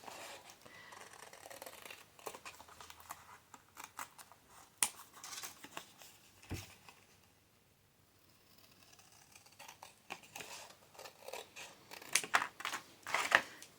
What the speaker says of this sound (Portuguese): eu vou cortar separando as 3 partes